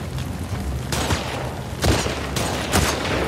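Rapid gunshots in The Last of Us Part 2, loud and close, several sharp cracks spaced through a constant background rumble.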